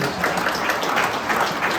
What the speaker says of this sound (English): And you can give a little round of applause.